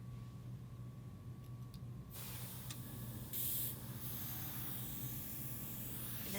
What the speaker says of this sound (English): spray on the activator on the hair scalp